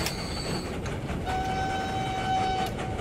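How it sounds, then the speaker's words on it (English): Train pulling into a station in the Transport Fever 2 video game, rumbling wheels and clatter with a sustained tonal horn-like whine rising partway through, fairly loud and continuous, no talk. "Train's coming in."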